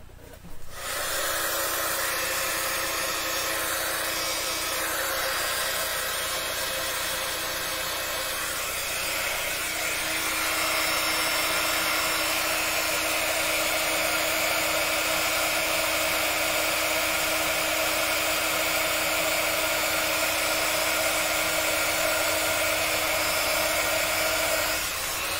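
A heat tool melting embossing powder for a pop-up card gives a loud, steady blowing whir like a hair dryer, running continuously at close range with no talk over it.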